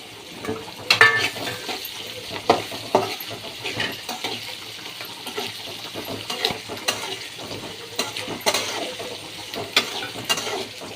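Chopped carrots and beans fry in oil for pasta, with irregular stirring scrapes and light clinks against the pan over a faint sizzle, heard up close.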